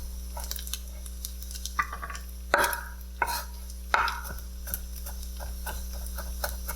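A knife chops garlic on a cutting board for crab fried rice, with irregular close taps that build into several sharper, louder strikes midway, then lighter quick taps.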